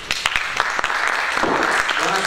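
Audience clapping for a speaker at a lecture on large military properties and city building, sharp individual claps at first merging into a denser burst of applause that fills the room.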